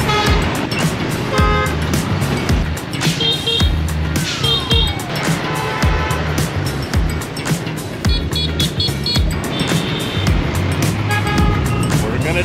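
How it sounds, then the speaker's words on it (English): A big truck comes head-on along a jungle road, its engine building as it nears, mixed with repeated horn toots and rattling road noise; excited voices speak over it. "That's a really big truck coming right at us."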